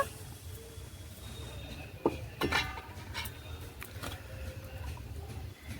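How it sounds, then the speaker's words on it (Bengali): A metal lid lifted off a cooking pan of paneer masala gives a couple of brief clinks and scrapes around the middle, over a low kitchen hum. "এবার ঢাকাটা তুলে নেব"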